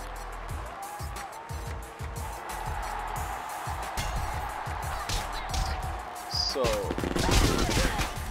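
A dense clatter of rapid gunfire from the video game Pit People plays alongside music and game effects, with a voice briefly speaking near the end.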